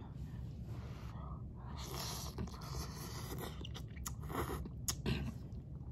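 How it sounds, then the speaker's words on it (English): Spicy noodle soup being eaten close up, with wet slurping, chewing and soft mouth noises in a steady stream, and no talk over it. "And I'm just going to just eat me a little bit of soup."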